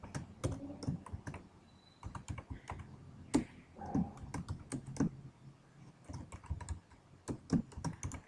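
Code being typed on a computer keyboard during a jQuery programming lecture, with a steady run of close, crisp key clicks and occasional heavier keystrokes, heard alone without talk.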